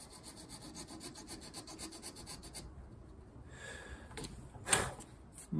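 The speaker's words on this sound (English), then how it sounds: "I'm just kind of using the end of the file here and just being conscious of not hitting the sides of the slot much" File rasping back and forth in a slot on a wrought iron san mai chef knife, rhythmic scraping strokes up close, then a pause and a few sharper scrapes and knocks.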